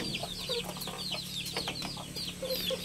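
Backyard Mestiso chickens clucking steadily, with soft clucks and distant bird chatter running continuously over a low farmyard hum.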